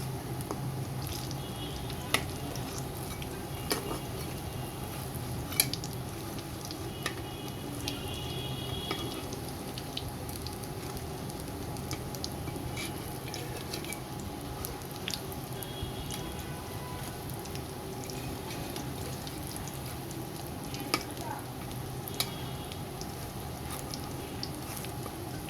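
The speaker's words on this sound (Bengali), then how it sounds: "এই তো আজকে আমরা আলুর চপ বেগুনের চপ ভাজতেছি।" Potato and eggplant chops fry in oil for an iftar meal, with a soft, steady sizzle and occasional small pops and clinks, faint and continuous without talk.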